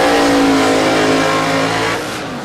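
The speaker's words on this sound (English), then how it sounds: "lining up this time against Christine Stefan in this gorgeous rear-engine dragster" Loud, steady engine roar from drag racing cars, including a rear-engine dragster, revving at the start line at Warwick Dragway, a dense sustained drone that eases off slightly near the end, with no voices.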